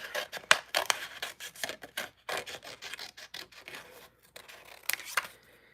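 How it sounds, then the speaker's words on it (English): Crisp snipping and rubbing strokes of scissors trimming card stock, coming in rapid irregular bursts up close with short pauses between cuts. "Now I'm going to trim this down because we're using the mini cut and emboss"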